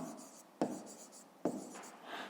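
Pen writing on paper during a fifth-grade maths exercise, quiet scratchy strokes with two sharper taps as the pen touches down, close and faint with no voices.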